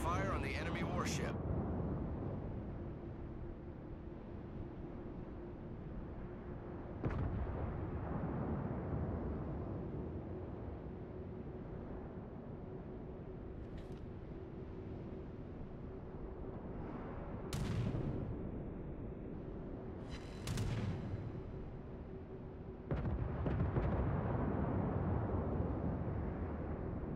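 Heavy naval gunfire from warship guns in the World of Warships game, aimed at an enemy warship from the cruiser Zao: deep booming salvos at several points over a constant low rumble, with speech running throughout.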